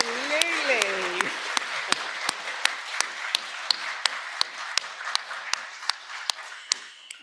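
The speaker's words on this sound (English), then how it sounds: "you should get some spontaneous applause" Applause for a professor at a prestige lecture, with a voice speaking briefly at the start and then a steady run of single sharp claps close by over softer clapping in the room.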